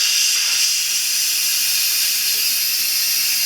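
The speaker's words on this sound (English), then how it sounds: "That's the release steam button" Steam hisses out of the release valve on top of a Cosori multi cooker in a steady, loud, continuous rush that holds evenly throughout, with no voices over it.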